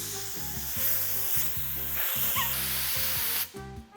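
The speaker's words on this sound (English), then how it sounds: "if I untie it, you can hear the pressure releasing" Air hisses steadily out of a pressure-tested hose from an E36 BMW build as it is untied, a broad rushing release heard over rhythmic background music, then cutting off near the end.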